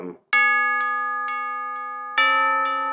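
A bell, struck during music creation, rings out twice: a loud clanging strike that decays slowly with rich overtones, then a second strike near the end, with a few lighter taps between.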